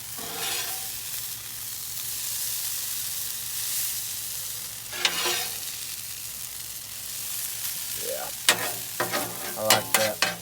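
Hash browns frying on a Blackstone griddle give a steady, loud sizzle throughout, with sharp scraping and tapping clatters from a spatula near the end.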